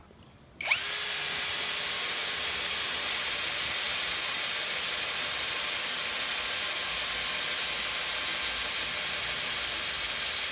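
A compact MASARU MSR-CD204 cordless drill with a removable chuck and clutch driver, running on a three-bar battery, starts abruptly and then holds a loud, steady, high-pitched whir close up for about ten seconds without pause.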